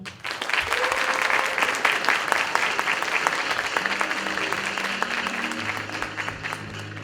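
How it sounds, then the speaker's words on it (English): A student audience at a university Latino pageant breaks into loud, sustained applause, dense clapping that holds steady throughout with a few tonal sounds underneath, then slowly thins toward the end. "So please, everyone, give a round of applause for Gabriela."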